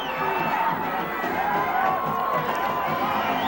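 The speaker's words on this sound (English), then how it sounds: "And now the Williamstown crowd starts to elevate" The Williamstown football crowd at the 2009 game against Delsea sends up a continuous roar of cheering and shouting that holds at a steady, loud level.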